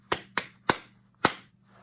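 Hands clap a rhythm during a music lesson, four sharp, close claps in an uneven pattern: two quick ones, a third, then a longer pause before the last, with a soft low hum underneath.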